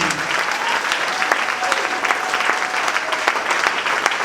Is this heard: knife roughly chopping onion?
no